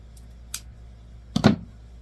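Scissors snip through a 1.5 inch ribbon while a bow is made, giving a short, close crunch with a fainter earlier click, otherwise quiet.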